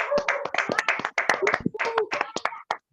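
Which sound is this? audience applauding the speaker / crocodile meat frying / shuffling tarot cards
audience applauding the speaker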